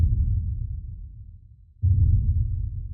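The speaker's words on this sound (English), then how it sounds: "And then finally, we have the low sort of rumble layer," Deep, sustained low rumble layer of a techno kick drum, a dark textured drone that thins out briefly and then swells back in, steady and close with nothing else over it.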